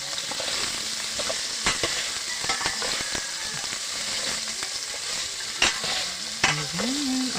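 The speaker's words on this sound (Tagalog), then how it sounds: "gigisa lang natin halo-haloin kailangan mahalo siya ng maigi para sumarap" Dried squid sautéed and stirred in a pan, a steady sizzle punctuated by frequent spatula scrapes and taps against the metal. There are a couple of sharper clanks near the end.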